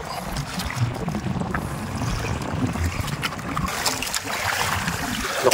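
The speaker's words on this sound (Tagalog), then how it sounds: "Lakas na ng alon." Steady rush of choppy water and wind against a small boat, with broadband splashing and low rumble continuing throughout without pause.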